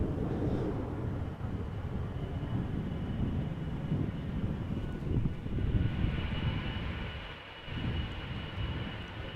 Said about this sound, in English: KLM flight 677 going to Calgary, Canada. 777-200 ER, 18 years old.